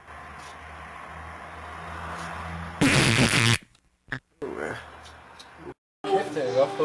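A loud, raspy fart bursts out for under a second amid background noise, followed by people talking.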